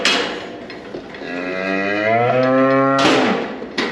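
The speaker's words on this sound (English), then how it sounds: "She's a good cow, this one." A Hereford cow lets out one long, loud, close moo that rises and holds its pitch for about two seconds. A short knock and a brief rustle follow.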